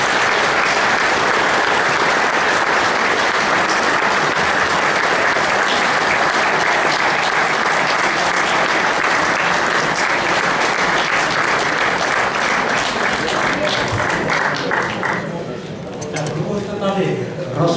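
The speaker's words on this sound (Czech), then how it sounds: "Tady mu tleskáte ve slovenském parlamentě" Sustained applause from an audience at the Vratimov seminar in 2014, dense and steady clapping that fills the room before thinning out near the end.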